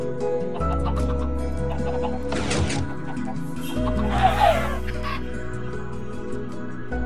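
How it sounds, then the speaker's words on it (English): Minecraft chickens clucking in short bursts over a steady game background hum, with a couple of brief rustling crashes between the calls. "see all these chickens?"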